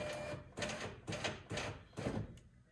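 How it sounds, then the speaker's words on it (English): A window regulator in a 1999-2007 Chevrolet Silverado door being cranked up, with five evenly spaced grinding, ratcheting strokes, close and loud with no talk. "we want to go ahead and roll that window regulator up"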